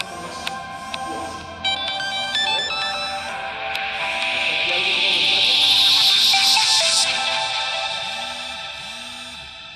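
A cell phone rings with a repeating electronic ringtone melody, clear and fairly loud, rising in intensity through the middle before easing off, with no talking over it.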